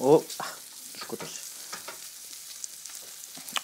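Olive oil and rendered fat are spooned from a frying pan over a Christmas pork roast: a sharp clatter at the start, then quiet scraping spoon strokes over a soft, steady sizzle.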